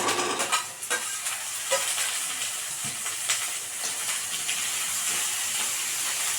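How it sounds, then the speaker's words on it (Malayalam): Cucumber pieces stirred into a hot pan for a Kerala-style dish, with a continuous hissing sizzle and steam under scattered scraping and clinking strokes, close and steady, no one speaking. "അതൊന്ന് ഇളക്കി യോജിപ്പിച്ച് ഇതിലേക്ക് വെള്ളരിക്ക കൂടെ ഇട്ട് കൊടുക്കുകയാണ്."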